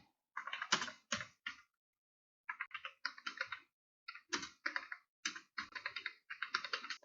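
Code is typed on a computer keyboard in quick bursts of close, crisp key clicks separated by short pauses, with no voices.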